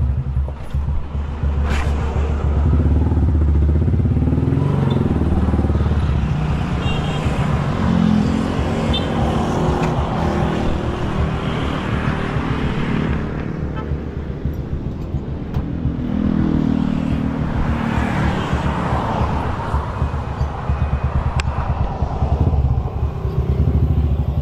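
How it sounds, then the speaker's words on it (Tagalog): Motorcycle engine running steadily while being ridden, a loud continuous rumble with shifting revs and road noise throughout, and occasional passing-vehicle swells. "Mainit na yung makina ni Mia."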